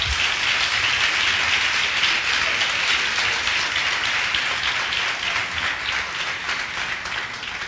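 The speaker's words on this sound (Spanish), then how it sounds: "Den un aplauso fuerte al Señor." A church congregation breaks into strong, steady applause, a loud, dense roar of many hands clapping together that holds evenly for several seconds before easing slightly.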